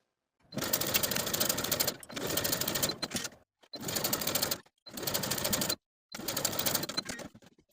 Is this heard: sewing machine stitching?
yes